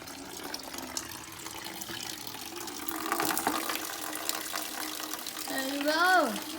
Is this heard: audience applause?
no